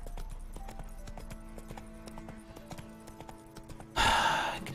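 Roach the horse galloping in Witcher 3, a rapid, steady clip-clop of hooves in a game, ending in a louder burst of noise near the end.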